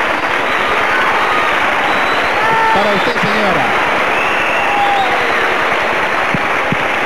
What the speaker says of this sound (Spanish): este es el aplauso de todas las tribunas.